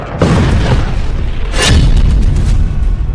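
Deep, heavy explosions from military strikes in southern Lebanon boom loudly, with one blast near the start and another around the middle, each followed by a long rumbling tail that fills the whole stretch.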